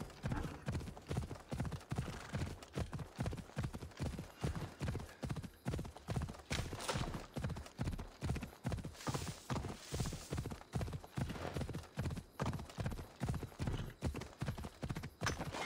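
A horse ridden in Assassin's Creed Odyssey trots with a steady, rapid clip-clop of hooves throughout, even and fairly quiet, with no talking.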